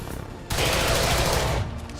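Sustained burst of automatic gunfire in the video game XCOM 2, a dense rattling volley that starts abruptly and runs loud and steady for about a second before cutting off, with softer game ambience around it.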